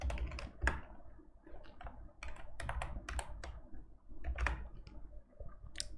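Rapid keyboard typing while entering JavaScript code for a Node.js project, with irregular bursts of crisp key clicks at close range and no talking.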